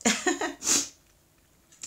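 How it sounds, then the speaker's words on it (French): A woman sneezes several times in quick succession, close and loud, the bursts followed by a short quiet breath. "Ça m'arrive pas souvent d'avoir des crises d'éternuement comme ça à répétition."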